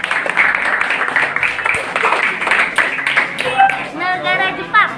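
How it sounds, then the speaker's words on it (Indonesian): Students in a classroom clap in a dense burst of applause that runs for several seconds, fairly close, while children's voices chatter and call out over and after it. "Tepuk tangan dong."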